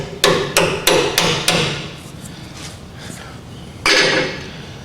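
Hammer blows during brake system work on a 1981 Chevy El Camino, five sharp, evenly spaced metallic strikes, then a quieter pause with faint knocks and one more loud hit near the end.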